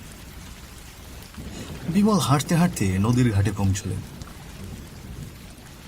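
Heavy rain in an animated storm scene, steady hiss of downpour with wind, under a narrator telling the story throughout.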